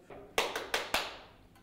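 Four sharp hand claps in a quick, slightly uneven run, close and crisp, with a faint fifth tap trailing off after a short pause.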